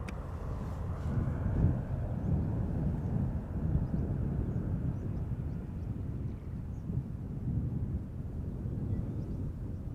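A Qatar airliner arriving from Doha lands on runway 27 at Schiphol Airport, giving a steady broadband roar with wind buffeting the microphone, continuous and moderately distant throughout.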